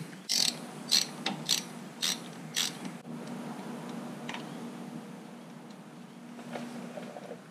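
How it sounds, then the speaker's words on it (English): Torque wrench ratcheting on a brake line banjo bolt during a big brake conversion on a 2019 Chevrolet Silverado, five quick evenly spaced clicks up close, then only a low steady hum with faint knocks. "Now we can torque our brake line bolt to 30 foot-pounds."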